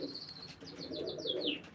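Pigeon cooing at a live pigeon auction, a soft series of short rising-falling calls repeated in quick succession, faint and close against a quiet room background.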